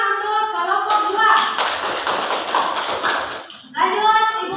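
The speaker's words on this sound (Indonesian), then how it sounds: "tepuk tangan untuk kelompok 2" A classroom of students applauds a presenting group, a dense burst of clapping lasting a couple of seconds, with a teacher's voice speaking just before and after.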